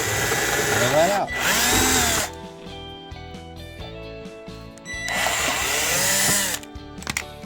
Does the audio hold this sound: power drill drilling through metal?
yes